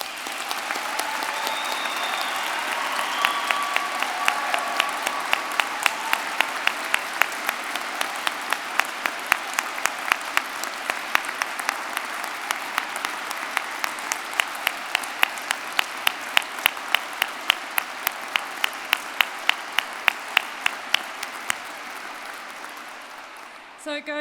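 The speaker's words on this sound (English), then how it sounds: "I'd like us all to give our graduates another round of applause." Sustained applause from a degree ceremony crowd for the graduates, a broad wash of clapping with one nearby clapper beating a steady, sharp rhythm throughout, continuing for over twenty seconds before fading.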